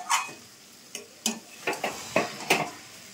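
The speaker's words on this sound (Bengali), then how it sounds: "তো এবার এটাকে একটু নাড়াচাড়া করেই এটাকে নামিয়ে নেওয়া হবে।" Carrot halwa with raisins and cashews being stirred in a pan, giving a few separate scraping and clinking strokes at an uneven pace, close and moderately loud over a faint sizzle, with no talking.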